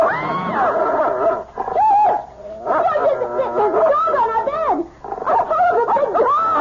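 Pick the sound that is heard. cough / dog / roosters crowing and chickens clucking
dog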